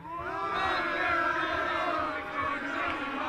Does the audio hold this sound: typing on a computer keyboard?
no